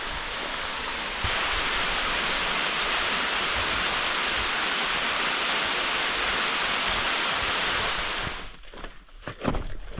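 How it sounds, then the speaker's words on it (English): A big waterfall along a forested mountain trail in the Colorado Rockies roars as a loud, steady broadband rush close by, then drops away near the end amid a few rustling footsteps. "Check it out, there's a waterfall."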